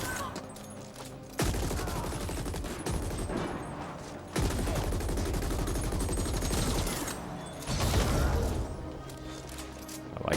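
Gunfire from the sci-fi shooter The Ascent rattles in dense bursts of rapid automatic shots, loud and close, with booming impacts and a brief pause in between, and no voices over it.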